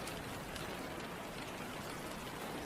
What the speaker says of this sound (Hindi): बाहर मूसलाधार बारिश और कड़कती बिजली की रोशनी खिड़की के रेशमी पर्दों से छनकर अंदर आ रही थी